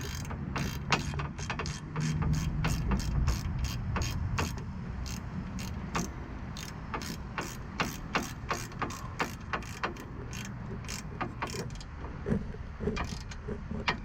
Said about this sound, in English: Alright, with the clip over, now we can tighten it back down.